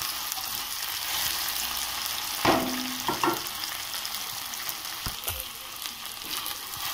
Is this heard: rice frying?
yes